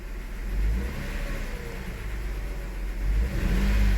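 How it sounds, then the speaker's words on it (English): A Toyota engine with a misfire, new coils and plugs fitted, is given light throttle and swells in a moderate rev, rising twice over a steady rumble, heard close with no talk. "Yeah, all right, so I gave it a light throttle."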